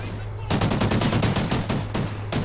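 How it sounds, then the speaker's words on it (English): Rapid automatic gunfire in a first-person shooter match, fired through a fence: a dense burst of evenly spaced shots starts abruptly after a brief quiet moment, stays loud and close, and pauses briefly near the end before resuming. "I was shooting through the fence"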